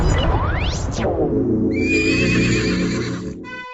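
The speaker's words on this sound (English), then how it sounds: "A fiery horse with the speed of light, a cloud of dust, and a hearty hi-ho Silver" A horse neighs loudly, a long rising-and-falling whinny with a shrill high cry, heard close and alone with no talk, followed by brief high whistling tones at the end.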